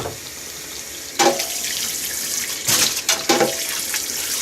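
A scarf is rinsed under a hot running tap to wash out vinegar, giving a steady close splash of water with louder surges as the fabric is moved through the stream.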